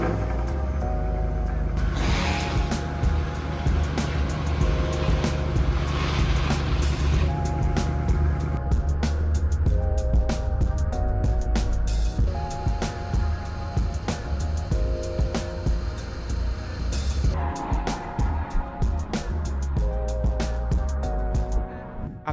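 A car being driven with a thermometer secured in its engine bay, giving a loud, steady road and engine drone with scattered clicks and knocks throughout, alone with no talking.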